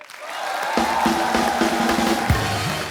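A studio crowd at a comedy show applauds and cheers in a steady, loud wash of clapping and voices, with tonal music or sound effects rising over it.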